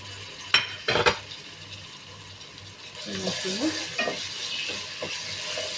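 Carrots, onions and tomatoes fry in a pan for a vegetable alicha. Two sharp utensil scrapes and clinks come early, then a steady sizzle continues while the mixture is stirred, with a voice briefly heard in the middle.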